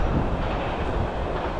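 A long CSX M409 graffiti-covered manifest freight train with a single ES44DC locomotive and no DPU rolls past close by, a steady, dense roar of wheels and railcars filling the moment without a break.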